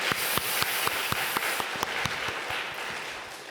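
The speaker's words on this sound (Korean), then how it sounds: "하나님께 영광 박수 드리겠습니다." Church congregation clapping during a Sunday daytime worship service: a moderate, roomy wash of applause with distinct individual claps, gradually thinning and fading toward the end.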